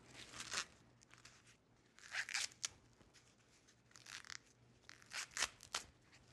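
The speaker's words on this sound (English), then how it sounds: "hold the bottom of the corn and start peeling away the outer leaves" Corn on the cob being shucked by hand, outer leaves peeled away in several close, crisp tearing and crunching bursts separated by short pauses, no talking.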